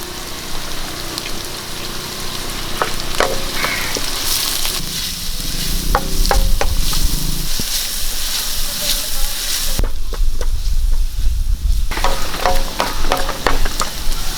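Mustard seeds, sliced onions and garlic fry in oil in a pan for a Kerala pothichoru, giving a steady close sizzle with crackles and intermittent clinks of stirring.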